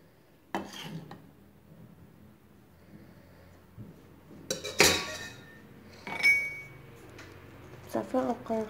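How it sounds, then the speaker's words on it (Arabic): A cornstarch (maizena) mixture being stirred by hand in a bowl, with scattered clinks and scraping of utensil against the dish between quiet pauses, while someone talks. "صافي غنبقى نخلطها هكا حتى كندخلو داك 500 غرام كلها"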